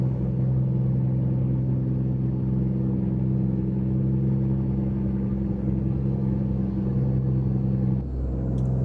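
A truck engine in American Truck Simulator rumbles in a deep, steady low drone, loud and close, holding evenly with no voices before easing briefly near the end.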